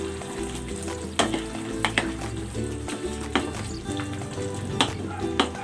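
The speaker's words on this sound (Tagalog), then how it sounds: "Ilalagay ko na dito yung patatas at carrots." Potatoes and carrots drop into simmering beef caldereta, with a steady, close sizzle and bubbling broken by several sharp spoon-on-pot clinks and scrapes as the pieces are stirred in, with no talking.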